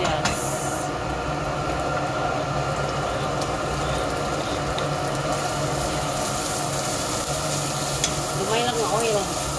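Onion sautéing in hot oil with garlic and ginger, a steady close sizzle with occasional stirring scrapes, running continuously with faint background hum.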